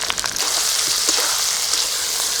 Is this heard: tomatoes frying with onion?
yes